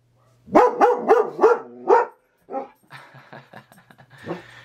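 A German Shepherd barks five times in a quick, close, loud burst, followed by softer, scattered woofs and whimpers.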